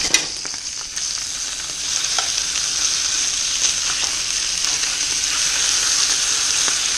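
Stocked trout fillets sizzle steadily in a hot pan, a loud, close, continuous frying hiss with small crackles and pops as the fish is flipped.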